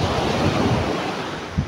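Ocean surf rolls onto a beach on an open, uncovered stretch of coast in the Philippines, a steady close wash of breaking waves mixed with wind buffeting the microphone.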